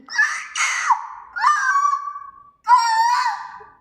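A child mimics a cuckoo's call with three drawn-out, high, whistling cries separated by brief pauses, close and clear against a quiet background.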